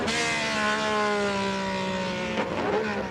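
A Ferrari racing car with a 1.5 litre flat-12 engine sweeps past at a hillclimb, its high, smooth engine note steady and fairly close before a sudden shift near the end.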